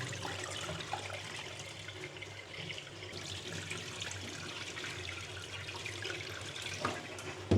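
Sticky rice being rinsed in water, with steady running and sloshing water, close and moderately loud, plus small clinks and splashes throughout and no speech.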